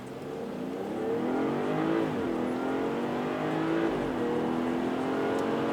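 A BMW 540i xDrive (G30) accelerates hard from a launch-control start on a night drive. The engine note climbs steadily and loudly through the revs, with a brief dip at a gear change before it keeps pulling.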